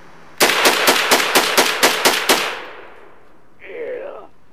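Rifle gunfire at an outdoor shooting range: about nine sharp, loud shots in rapid, even succession over two seconds, ringing out and fading, followed by a brief muffled voice.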